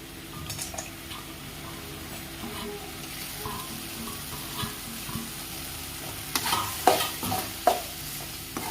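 Tomatoes are sautéed in oil in a pan for mint chutney, a gentle sizzle running throughout with scattered stirring scrapes that grow into louder clinks toward the end.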